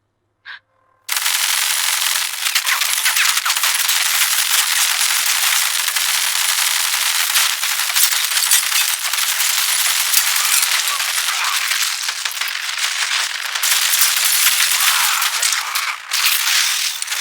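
Continuous rapid machine gun fire from a battle scene in the animated series Invincible, a loud dense rattle of shots sustained for many seconds after a brief lead-in.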